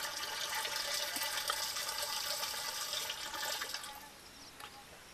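About four to five litres of water pour steadily into a container for making a chutney, a broad splashing rush that holds evenly and then eases off slightly at the end, with no voices.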